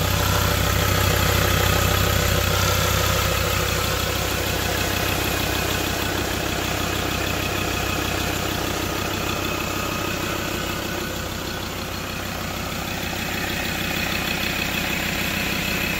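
Steady idle of a 2015 Ford Ranger Wildtrak 3.2 automatic four-wheel-drive pickup, a close, even low rumble holding constant throughout with no voices.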